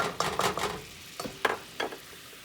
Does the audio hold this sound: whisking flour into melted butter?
yes